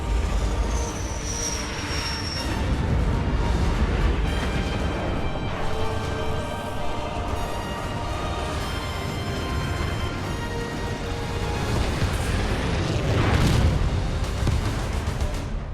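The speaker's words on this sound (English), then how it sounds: "Isabel, launch Archer missiles now." Archer missiles launching and detonating in the video game Halo Wars 2, a dense, heavy rumbling roar of engines and explosions sustained throughout, swelling toward the end, loud and without talking.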